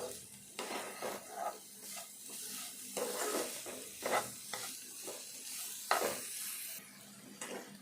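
A spoon stirs carrot laddu mixture with melting sugar in a hot pan, giving repeated scraping strokes over a soft sizzle, with close, irregular clinks against the metal.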